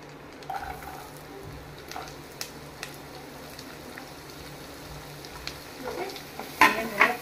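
Finely chopped onion frying in a pan, a quiet steady sizzle with occasional clinks and scrapes of stirring that grow louder near the end.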